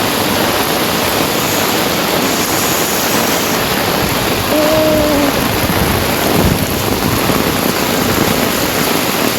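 Heavy rain pours down continuously in a loud, dense wash of hiss with no letup, filling the whole stretch with no voices present.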